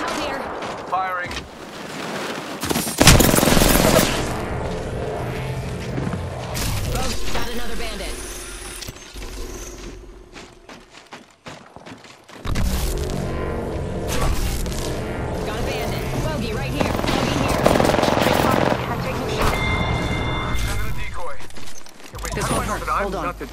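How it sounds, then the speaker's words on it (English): Gunfire in Apex Legends, with dense, sustained bursts of shots and impacts that pause briefly midway and then resume, while a voice talks over the action. "Firing."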